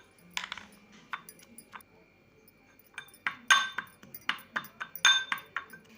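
Garlic cloves and chili powder pounded by hand, a run of sharp, close knocks in an uneven rhythm with short pauses between bursts of strikes; no voices.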